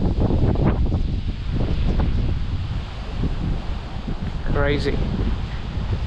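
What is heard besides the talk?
strong wind blowing outdoors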